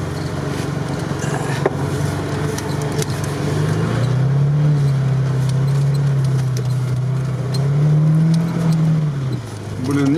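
A Soviet Lada Niva grinding off-road along a rutted tank road, its engine droning steadily, then pulling harder with a rising, wavering revs that hold and then drop, close and loud beneath occasional voices.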